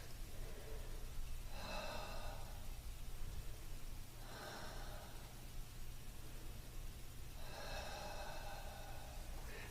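Three slow, deep breaths during a quad stretch, each a soft airy inhale-exhale a few seconds apart, close to the mic over a steady low hum and background hiss.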